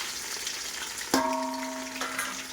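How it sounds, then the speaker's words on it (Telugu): Ginger-garlic paste and garam masala frying for Andhra-style dum biryani, a soft close sizzle with a single bright metallic clang of a utensil on the pot partway through, ringing briefly before the frying hiss continues. "వేసుకొని రోస్ట్గా ఫ్రై చేసుకోవాలి."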